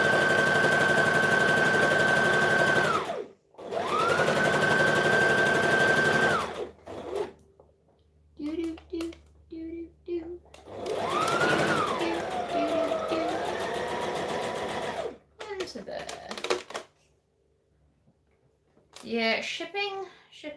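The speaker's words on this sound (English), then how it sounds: "So we'll be overlocking this too." An overlocker sewing machine runs in short bursts while overlocking fabric, a steady whirring hum that starts and stops several times, with a person talking between runs.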